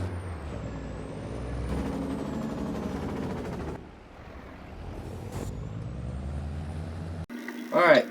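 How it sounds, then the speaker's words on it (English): Air brakes hiss from a truck pulling up in the Farming Simulator 22 video game, a short sharp release near the end after a steady rumble of engine and game noise with voices talking. "I think I heard something. Is that a truck?"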